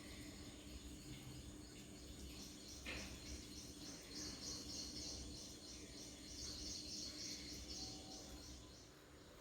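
Morning outdoor ambience just after rain, with repeated high chirping calls from birds and insects, steady and moderately faint, with a low hum underneath and no talking.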